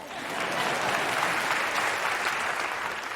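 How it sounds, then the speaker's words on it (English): An audience applauds steadily and fairly close for the whole stretch, a dense, even wash of clapping with no voices over it, honoring a 19-year-old actress's first movie, directed by Sidney Poitier. "you can clap that"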